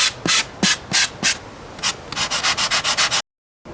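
Close, scratchy strokes of a 60-grit sanding block on a model airliner fuselage rub back and forth, first in slower separate passes, then faster and rhythmic before stopping abruptly.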